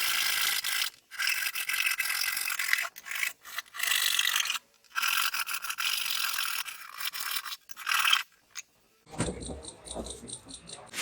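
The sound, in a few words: hacksaw blade cutting to separate a piece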